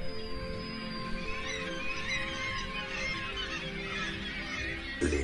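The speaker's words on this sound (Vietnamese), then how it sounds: "Hàng nghìn con chim mỏng biển và vẹt biển sống thành đàn, rất yên bình ở đây, mặc dù chúng rất ồn ào." A noisy seabird colony of guillemots and puffins on the Norwegian coast, with a dense, continuous chorus of many birds calling at once, loud and steady throughout.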